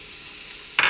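Leeks and red onions go into hot olive oil in a pan: a soft steady hiss, then a sudden louder sizzle burst near the end as the vegetables hit the oil.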